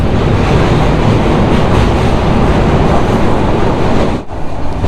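Rupshi Bangla Express passing Jhikargacha station without stopping, a loud continuous rumble and rattle of wagons on rails with broadband roar throughout, dipping briefly near the end.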